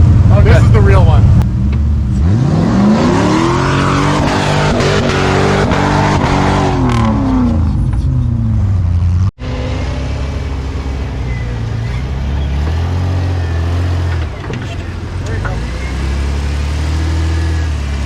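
A Jeep WJ engine revving in low gear on an off-road rally course in Dresser, Wisconsin, a loud sustained drone rising and falling, with people talking over it throughout.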